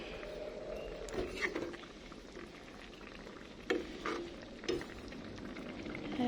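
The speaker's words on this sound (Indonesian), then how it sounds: "Ini gulanya udah hampir matang, udah mendidih." Sugar syrup bubbling at a boil in a pan, with a steady seething texture broken by a few scraping knocks from stirring, all at low level and without speech.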